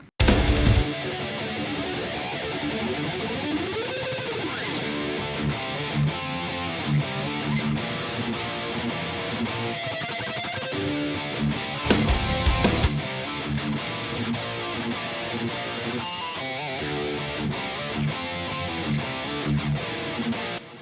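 Electric guitar recorded through a Mesa Boogie and a Bad Boy amp at once, a thick distorted tone playing a continuous riff-driven passage at steady loudness, with a brief noisy burst around the middle and no talking.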